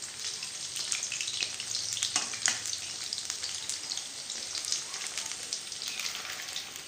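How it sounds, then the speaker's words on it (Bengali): Pakoras deep-fry in oil with a dense, bubbling crackle like light rain, steady and close throughout, with a couple of sharper scrapes near the middle and no one talking. "লাল লাল করে পকোড়াগুলো ভাজতে হবে।"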